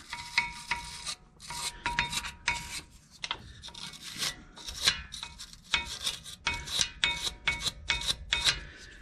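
Crud and rust are scrubbed off a brake caliper bracket on a 2006 Dodge Ram 1500, making close, rhythmic rasping strokes in quick bursts with brief pauses between them.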